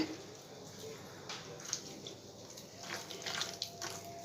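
Quiet watery sloshing and faint trickles as water is worked into thick chickpea-style bajji batter for mirchi bajji, with a few soft splashes and clicks, no talking.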